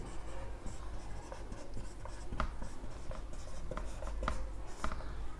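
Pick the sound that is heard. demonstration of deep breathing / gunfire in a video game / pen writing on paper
pen writing on paper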